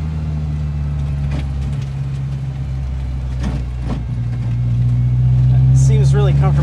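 A car engine hums steadily while driving, a low continuous drone that rises slightly toward the end, with people talking over it.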